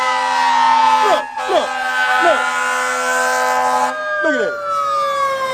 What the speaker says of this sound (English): No, that's the ambulance.